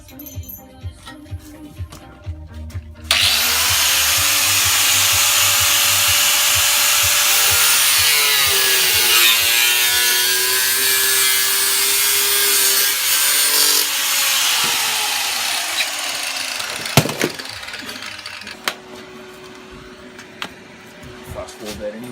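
A power tool cuts metal during a Yamaha XT600 motorcycle rebuild, throwing sparks: a loud, harsh, continuous grinding whine that starts abruptly, runs about fourteen seconds with shifting pitch, then stops, with quieter workshop clatter before and after.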